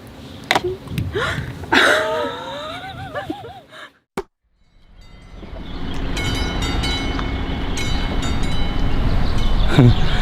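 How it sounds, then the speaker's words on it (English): Rumbling train noise in a train yard in Slovakia, with squealing, whining metal tones and clanks, a sudden cut, then a steady growing roar of rail cars rolling. "Good morning from this train yard."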